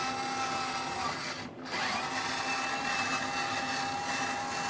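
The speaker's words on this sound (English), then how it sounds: "here's the turret rotation speed. This is full throttle on that servo" A servo turns the turret of a 1/6 scale Dragon Sherman tank at full throttle, making a steady, thin motorized whine with a brief dip midway, no talking.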